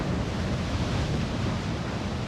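Rushing whitewater on a Class 2 river rapid, a steady broadband roar of churning water close by with no pauses, filling the whole moment.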